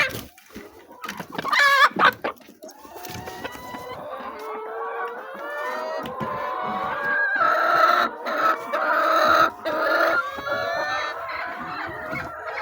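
Many layer hens cluck and squawk together inside a poultry house during evening egg collection, a dense continuous chorus of overlapping calls with a few louder bursts near the start.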